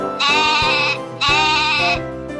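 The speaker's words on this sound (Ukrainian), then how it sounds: "А ягнятко бе-бе-бе." A lamb bleats twice, each call long and quavering, close and clear with a short pause between them.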